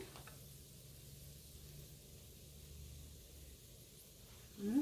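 Tomatoes go into a pan where salmon fries in garlic butter, a faint, steady, soft sizzle that continues evenly, ending with a brief louder clatter.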